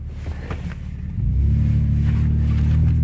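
A 2003 Ford Escape being driven in front-wheel drive while its 4x4 system is tested, a quiet idle rising into a loud, steady engine rumble as it pulls away, with no talk.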